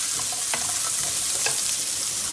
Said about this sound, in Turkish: Havuçları şöyle e, hafiften bir kızartacağız